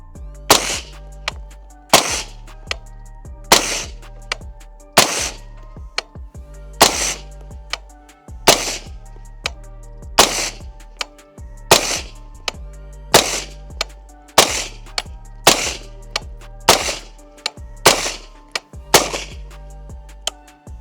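Suppressed .22 rifle shots through a Replicator ACER suppressor, about twenty sharp, evenly spaced cracks roughly one per second, each with a brief ringing tail, loud and close, no talking.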